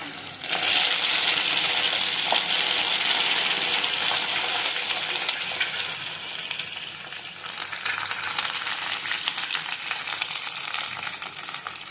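Onions, dried red chillies and curry leaves frying in hot oil as a tempering for cowpea dal, a loud, dense, continuous sizzle close up that eases slightly toward the end.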